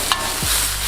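Fish masala for fish chukka being stirred in a pan, a short scrape of the spoon over soft frying hiss, close and fairly loud, with no voices.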